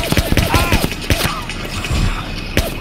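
Gunfire in the video game ArmA 2 crackles in several irregular bursts of sharp shots, moderately loud against a faint background.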